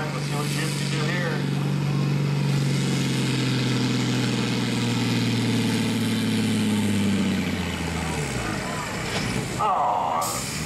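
A pulling tractor in a farm tractor class idles at a tractor pull event, a loud steady low engine rumble whose pitch slowly sags, with a brief hiss like an air release near the end.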